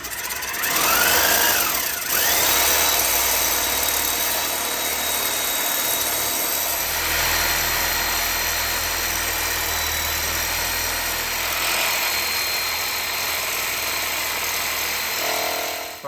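A power tool whines continuously while cutting exhaust manifold bolts on a 7.3 engine, a steady loud grinding drone with slight pitch shifts throughout.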